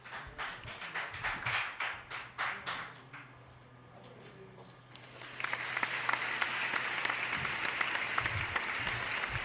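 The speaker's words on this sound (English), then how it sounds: "Can we give another warm applause for CEO?" At a corporate live-streamed event, a few close, rhythmic claps in a steady pattern give way to a short lull, then broad audience applause swells in and continues, moderately loud, to the end.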